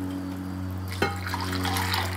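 Tap water is poured over walnuts to soak them. After a second of low room hum, a close, steady splashing pour begins and continues to the end.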